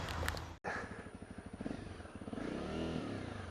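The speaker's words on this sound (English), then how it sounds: "Let's jump back on the bike and take it for a bit more of a spin." A Honda CRF 250 Rally motorcycle is ridden, its engine pulsing in quick rhythmic firing with short revs and gear changes, fairly close and steady after a brief cut at the start.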